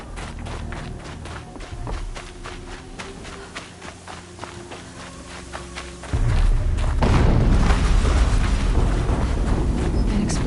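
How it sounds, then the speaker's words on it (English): Explosion in the game Horizon Zero Dawn, heard after a stretch of footsteps and thuds, bursts in as a loud, deep rumbling roar that holds steady for several seconds. "An explosion."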